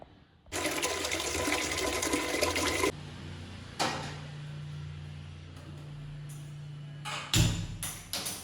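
Water gushes steadily from a tap into a pot for cooking rice for a couple of seconds, then stops, followed by quieter clanks and handling noises.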